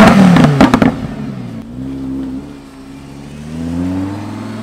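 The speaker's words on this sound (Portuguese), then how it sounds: "Esta é a potência do Lamborghini Huracan." Lamborghini Huracan engine revving hard in short bursts at first, then settling into a loud, rising and falling drone with shifting pitch, close by and alone.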